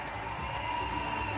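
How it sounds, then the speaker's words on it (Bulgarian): Crowd in a gymnastics arena at a European Championship applauds and cheers for gymnast Eva Brezalieva, a steady wash of clapping and crowd noise with a faint tonal background. "Браво на Ева, силни аплодисменти, заслужени, справи се."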